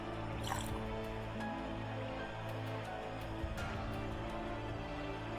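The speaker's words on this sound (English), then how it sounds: "We'll pour the rest of this Aperol in here" Aperol, about 1.5 ounces of it, poured into a glass, a soft steady trickle and drip of liquid running on for several seconds at close range over a low background hum.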